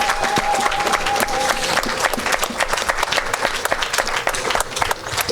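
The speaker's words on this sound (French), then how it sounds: "Somebody clap your hand for the Lord." Church congregation clapping hands for the Lord at a revival service, a dense sustained burst of applause with many overlapping claps and some crowd noise, loud and continuous throughout.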